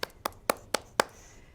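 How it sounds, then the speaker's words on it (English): A handful of separate, evenly spaced claps ring out at a university bachelor's convocation, five sharp hand strikes about a quarter second apart, fairly close and with no talking. "let's give ourselves a round of applause"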